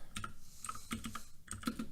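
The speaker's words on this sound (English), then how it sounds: "I know you guys can hear me typing now." Quick bursts of keystrokes on a computer keyboard, close and faint, clicking in short uneven runs with brief pauses between them.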